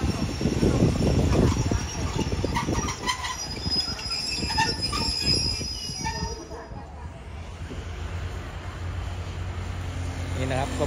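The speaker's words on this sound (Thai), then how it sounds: "ตอนนี้กำลังเคลื่อนขบวนออกจากสถานีบ้านโป่งครับ" Express train 171, hauled by a QSY locomotive, pulls out of Ban Pong station in Thailand with a heavy rumble, clanking wheels and shrill wheel squeal that fades as it moves off, while a voice talks.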